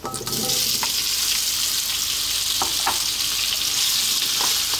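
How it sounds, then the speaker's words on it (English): Potatoes drop into hot oil with cumin seeds and chili and keep up a loud, steady sizzle, with a few stirring scrapes and clinks on top and no talk. "we're going to start this off by adding our potatoes"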